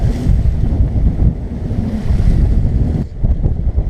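Strong wind buffets the microphone over steady rushing waves aboard a sailboat at sea, loud and continuous throughout.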